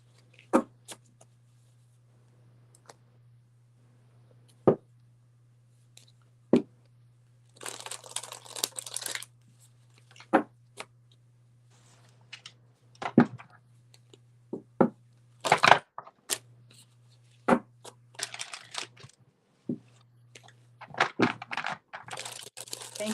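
Tarot cards shuffled for a reading, sharp isolated card snaps and slaps at first, then bursts of riffling and crinkling shuffles over a steady low hum, with long quiet gaps between.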